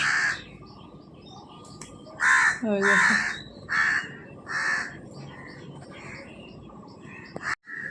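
Outdoors, crows caw in a series of loud, harsh calls, with a short cluster near the middle and then spaced single caws. Other birds chirp faintly behind them and a person speaks briefly.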